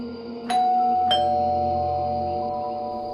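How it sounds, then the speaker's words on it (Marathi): A two-tone doorbell chime rings once, a bright ding followed by a lower dong, with the tones ringing out and fading slowly in a quiet room. "डोअर बेल वाजवली."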